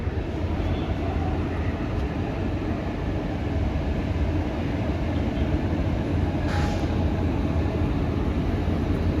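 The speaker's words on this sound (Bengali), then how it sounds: "কিছুক্ষণের মধ্যেই ট্রেন ছাড়বে।" Howrah–Prayagraj Vibhuti Express with new LHB coaches standing at a station platform at night, giving a steady low rumble and hum throughout, with a brief brighter hiss partway through.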